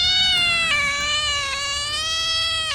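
A cat lets out one long, drawn-out yowling meow, loud and close, wavering in pitch and lasting nearly three seconds before cutting off, with a low background hum beneath it.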